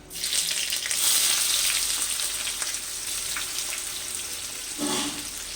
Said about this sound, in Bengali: কড়াইয়ে সাদা তেল দিয়েছি চার চামচ দারচিনি আর লবঙ্গ দিয়ে দিলাম এবার পেঁয়াজ দিয়ে দিচ্ছি